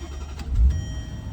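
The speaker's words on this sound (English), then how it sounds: "Let's fire her up and let her idle." A 2008 Range Rover Supercharged L322 engine cranks and catches, a brief low rumble swelling near the middle, then settling toward a steady idle, close and alone.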